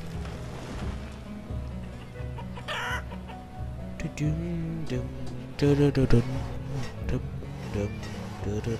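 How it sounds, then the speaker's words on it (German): Chickens cluck and a rooster calls in the medieval village game Banished, over a steady low ambient drone. Clucks grow busier and louder midway, and someone talks quietly at times. "Die coolsten Hühner können dann nachher rein."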